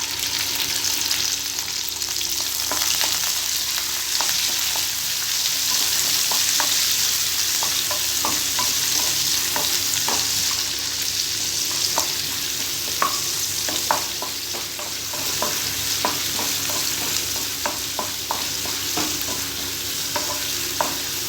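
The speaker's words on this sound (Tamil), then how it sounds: "சின்ன வெங்காயம் சேர்த்துக்கோங்க, பச்சை மொச்சை மசாலுக்கு சூப்பராக இருக்கும்." Small onions sizzle steadily in a hot pan for a pachai mochai masala, with repeated scraping stir strokes over a continuous frying hiss, close and loud, no voices.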